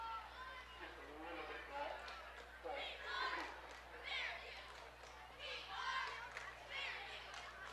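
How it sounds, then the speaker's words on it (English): High school football crowd at a Fairview game chanting "We Are Fairview" in rising and falling waves of massed voices, heard from a distance with steady background murmur. "the "We Are Fairview" chant going through this crowd"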